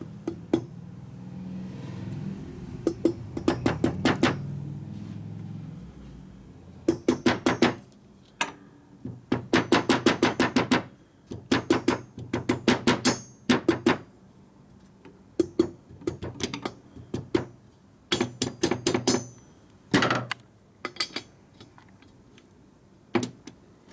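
Repeated metallic hammer blows on Harley-Davidson Twin Cam engine parts during a motor rebuild, coming in quick bursts of sharp clanks with brief pauses between clusters, close and fairly loud.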